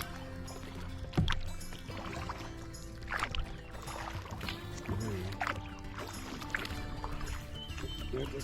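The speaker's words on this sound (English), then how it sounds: "we've been paddling on the Grand River" A canoe paddled on the Grand River gives soft, irregular splashes and drips of paddle strokes, fairly close, under occasional quiet talk.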